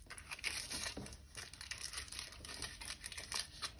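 Tin foil crumpled and torn by hand during a craft project, a steady run of close crinkling and rustling with sharp tearing bursts and no talking.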